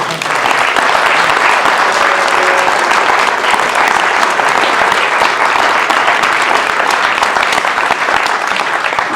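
Steady, loud applause from a lecture audience at a historical society event, dense clapping filling the room without a break for several seconds.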